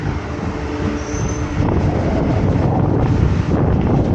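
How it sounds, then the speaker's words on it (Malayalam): Himasagar Express pulling out of Nagercoil station, a steady broadband rumble of rolling rail cars with a brief high wheel squeal early on and wind buffeting the microphone, growing louder and denser as the train gets under way. "അപ്പോൾ വണ്ടി നാഗർകോവിൽ സ്റ്റേഷനിൽ നിന്ന് പുറപ്പെടുകയാണ്."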